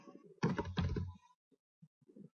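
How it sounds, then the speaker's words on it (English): Quick burst of typing on a computer keyboard, dense clustered keystrokes for about a second, then a few isolated soft taps trailing off in a quiet room. "I just have to type this in quickly"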